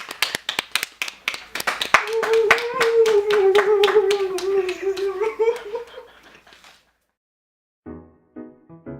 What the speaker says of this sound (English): Now let's give a big round of applause for Jane Mary